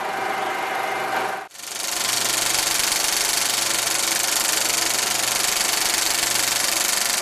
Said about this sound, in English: Missile 3A was the second Atlas missile to be fired in stand S1